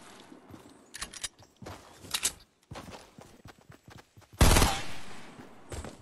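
Bursts of gunfire in the battle royale game Fortnite: several sharp shot clusters spread across the moment, then one louder, closer blast, with quieter footstep-like sounds in the gaps.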